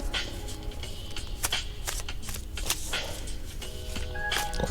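A deck of cards being shuffled and cut at close range, with a steady run of soft riffling flutters and sharp papery snaps throughout, no voice.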